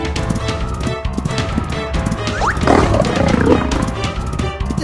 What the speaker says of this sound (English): The lion's still chasing the giraffe.